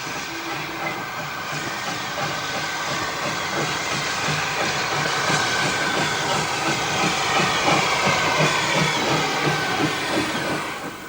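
A preserved steam tank engine rolls into Birkhill station on the Forth Valley Railway, a loud, continuous hiss and rumble with faint rhythmic wheel clatter that swells slightly as it nears, then eases off at the end.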